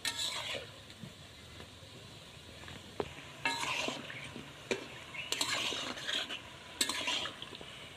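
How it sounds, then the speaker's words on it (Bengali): Bursts of sizzling oil as flour-and-egg biscuits fry, alternating with scraping and clattering of a utensil against a pan, with quieter crackling in between. "বিস্কুটগুলো ভাজা হয়ে গেছে, তো আমি এখন নামিয়ে নেব।"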